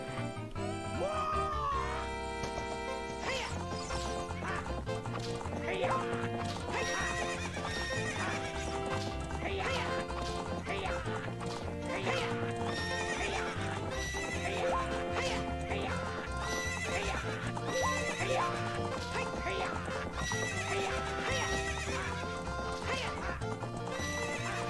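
A horse in The Legend of Zelda: Ocarina of Time neighs and gallops with steady clip-clop hoofbeats over continuous game music, the whinny sounding early and the rhythmic hooves carrying on throughout.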